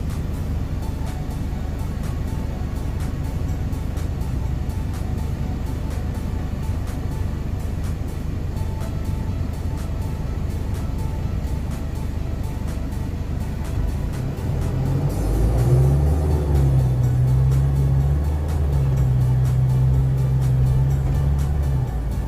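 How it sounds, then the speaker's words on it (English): A 2019 Hino 195 regular-cab box truck with a 20-foot box accelerates on a road test drive, its engine a steady loud drone that deepens into a stronger low growl partway through as it pulls away, with no talking. "Accelerates good, feels smooth. Transmission shifting nice."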